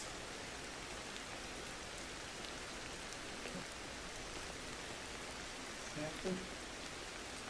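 Steady, even rainfall hisses through a prehistoric jungle in the video game Ancestors: The Humankind Odyssey, with a brief word spoken near the end.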